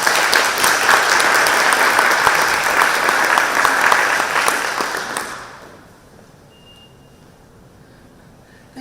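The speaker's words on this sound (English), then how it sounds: "let's give a round of applause for Bailey" A crowd at a spring awards ceremony applauds an honoree, a full, even wash of clapping lasting about five seconds that then fades away into quiet room tone.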